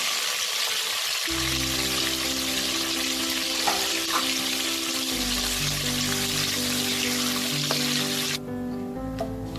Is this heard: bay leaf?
yes